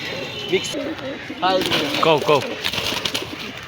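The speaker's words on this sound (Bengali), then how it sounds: "এই এক পেয়ার রাজগোলা কবুতর আছে বিগ সাইজের" Rajgola pigeons at a crowded pigeon market in Khulna, cooing in short repeated close calls mixed with market chatter, while someone talks over them.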